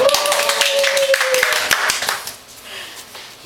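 Audience clapping at a parenting class, a burst of scattered hand claps that starts loud and thins out over a few seconds, with a brief tone and some murmuring at the start.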